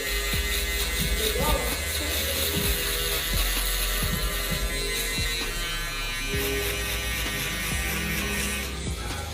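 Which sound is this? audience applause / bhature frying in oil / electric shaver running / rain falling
electric shaver running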